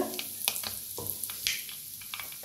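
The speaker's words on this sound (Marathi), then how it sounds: "तेल कमी झाले, त्याच्यात टाकूया अर्धा चमचा मोहरी, अर्धा चमचा जिरं, थोडंसं हिंग" Mustard seeds, cumin and a pinch of asafoetida sizzling in a little hot oil, a quiet crackling hiss with irregular small pops and taps, close but soft, with no voices.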